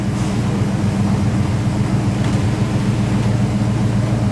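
A white 1992 Ford Mustang SAAC Mk I with a 5.0 liter V8 idling, a steady deep low rumble with an even pulsing throb, close and constant throughout without revving or talk.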